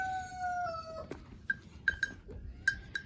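A goat bleats in short, sharp calls several times in quick, irregular succession after a brief tonal whine, fairly close and otherwise quiet.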